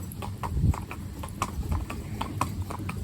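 A Welsh Cob mare walks along, her hooves striking hard ground in a clear, steady clip-clop rhythm, close and distinct with a little background hum.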